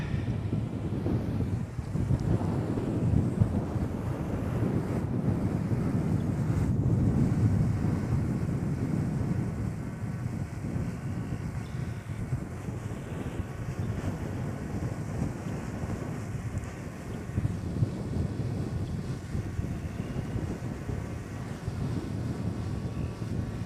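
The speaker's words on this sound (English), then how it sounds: "It's pretty windy and it's doing well." Strong wind buffets the microphone in steady low rumbling gusts during a storm in Minnesota or Iowa, with faint water and boat-like noise underneath, lasting throughout.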